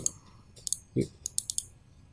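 Computer mouse clicking during Adobe Illustrator work, with a handful of crisp, close, quiet clicks spread over about two seconds, some in quick pairs, and a faint soft thump in between.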